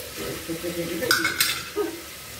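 Chicken stirred and briefly fried in a pan for a Bengali chicken stew, with scraping stirs of a utensil against the pan, a couple of sharp metallic clinks and soft sizzling underneath, close and moderately loud.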